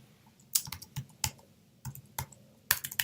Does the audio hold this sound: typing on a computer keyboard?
yes